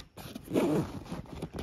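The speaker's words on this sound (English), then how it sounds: "these zippers have this rubber coating" A rubber-coated zipper on a hunting backpack is drawn along its track in one close, rasping pull lasting under two seconds, with a brief louder stretch in the middle.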